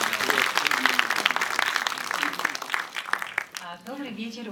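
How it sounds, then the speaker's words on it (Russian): Audience applause in a cinema at a film presentation, dense clapping that runs under an announcer's amplified voice and then fades as the talk continues. "Все наши замечательные друзья, ваши аплодисменты."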